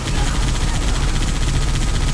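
Sustained automatic gunfire in a Halo 3 battle, part of the Master Chief Collection on PC. A dense, loud barrage of rapid shots and explosions rolls on without pause.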